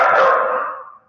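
A single loud, drawn-out dog bark or yelp sounds close by and fades away over about a second, with no voices.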